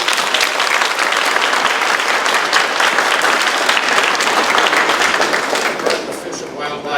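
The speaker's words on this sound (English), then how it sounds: "Let's give Michelle a great big round of applause." Sustained audience applause at a live open house event, loud and dense for about six seconds before thinning and tapering off near the end.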